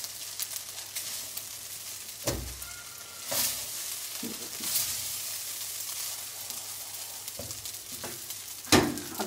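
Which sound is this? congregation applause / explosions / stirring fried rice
stirring fried rice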